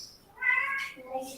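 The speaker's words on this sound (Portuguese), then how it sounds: "É gato que tem aqui." A cat meows twice indoors, a drawn-out rising cry followed by a shorter, lower one, faint and close.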